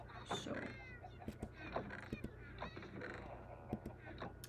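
A cat in a video game meows and yowls several times in short, uneven calls, moderately close, mixed with a goose-like honk, clicks and a low steady hum underneath.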